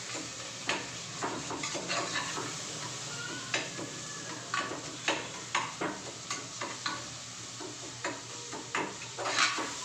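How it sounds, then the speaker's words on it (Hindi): Vegetables cooking in an open pressure cooker, a continuous soft sizzle broken by repeated sharp scraping and clinking of a spoon stirring against the metal pot, close and without talk. "मैं कुकर में खुली ही करके सब्जी बनाऊंगी"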